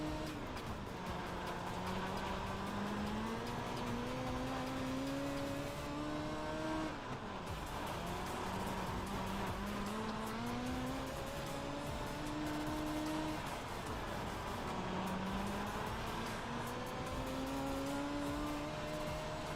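A race car engine in a racing sim game drives laps around a track, revving steadily up and down through repeated gear shifts, a continuous synthetic motor drone with no talk.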